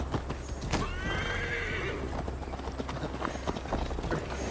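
A horse neighs loudly and its hooves clip-clop steadily while being ridden in Assassin's Creed Valhalla, with a continuous low ambient drone underneath.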